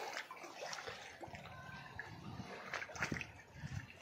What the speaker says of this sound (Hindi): अभी मैंने पानी चालू किया हूं